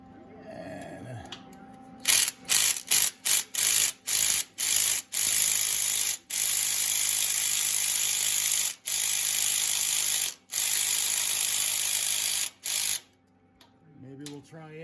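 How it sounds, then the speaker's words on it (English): A ratchet turns a socket on a broken exhaust stud in an aluminum cylinder head, producing a loud buzzing clatter in repeated bursts, first short and rapid, then longer strokes with brief pauses. "maybe we'll try a ratchet instead. Okay, and we got our ratchet."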